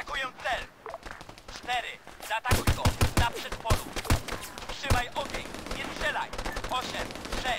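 Gunfire in the Arma 3 game comes as repeated sharp cracks and short bursts, several loud shots clustered in the middle, under someone talking throughout.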